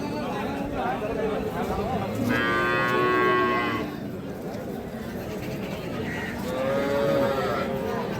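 Dairy cows moo twice, loud and near, at a busy cattle market in Dinajpur where milking cows with calves are traded, over steady crowd chatter and people talking.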